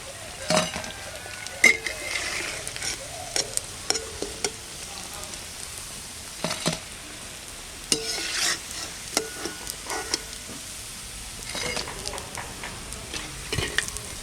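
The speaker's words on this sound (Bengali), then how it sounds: "এই দেখুন পুরো লাল লাল করে ভেজেছি এখন আমি নামিয়ে দেবো" Snakehead (shol) fish fritters in a coarse rice-flour coating sizzle steadily in hot oil, with sharp scattered clinks and scrapes as the fried pieces are lifted out.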